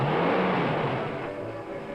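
A car engine hums and revs at a bank's drive-in window in 1966, close at first and then easing off as the steady drone fades slightly over two seconds.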